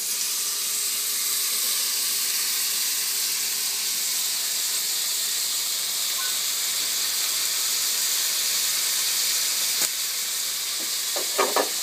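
Vegetables sauté in a pan with chicken, giving a constant, bright sizzle and hiss with a few faint clinks near the end.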